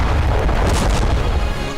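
A heavy explosion rips through an Israeli cargo ship struck at sea near Yemen by a Houthi ballistic missile: one loud, sustained, rumbling boom fills the whole moment with no voices.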